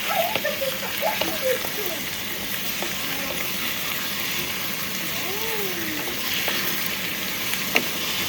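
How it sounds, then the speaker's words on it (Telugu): Cut chicken pieces sizzle and fry steadily in a pan for a green chicken curry, with scraping stir strokes breaking through the continuous crackle and a voice talking over it. "కట్ చేసి పెట్టిన చికెన్ మొత్తం వేసేస్తున్నాను అనమాట. కొంచెం కలుపుదాం."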